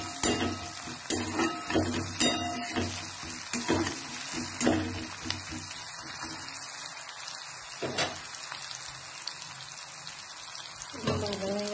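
Chopped onions with cumin and dried chillies fry in hot oil, browning, with a steady close sizzle punctuated by repeated scraping stirs.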